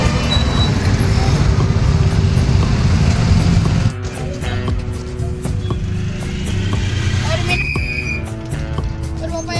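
Busy road traffic with many vehicles, including buses and cars, hums and rumbles nearby, joined by occasional horn or whistle squeals and shifting engine noise over a steady roar.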